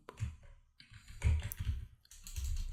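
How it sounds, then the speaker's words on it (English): Keys clatter on a computer keyboard in short bursts of clicking, close and moderately loud, with a brief pause midway and no talking. "and I'm gonna type"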